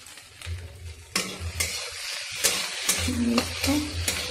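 Okra and potatoes frying in a pan for a quick dinner, a steady sizzle with scraping stir strokes and pan clinks, close and fairly loud, with no talking.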